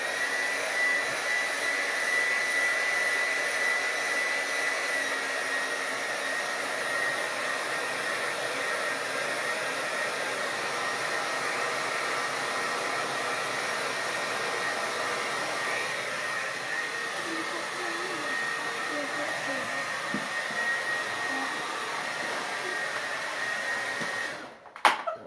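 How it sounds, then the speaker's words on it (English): A hair dryer runs steadily with a loud, constant whooshing hum for the whole stretch, cutting off abruptly at the very end. "So I'm going to run my hair dryer over this"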